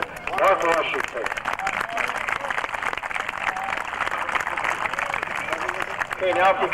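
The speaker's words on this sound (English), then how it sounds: "Round of applause for Mr. Mark Washington." At a 1994 Montgomery County all-star game ceremony, spectators clap and cheer for Mark Washington, a brisk round of applause that swells at the start and close, with some voices mixed in.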